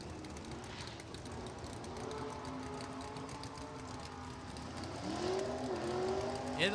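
Engines of a 1963 Corvette and a 1967 Camaro rumble steadily at a drag strip, then rise sharply into a louder, climbing rev as the cars launch near the end.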